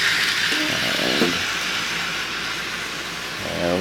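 A Royal Blue Baltimore and Ohio model train runs on a Christmas town layout, giving a steady hissing, rumbling drone with faint rhythmic clicks, close and continuous throughout.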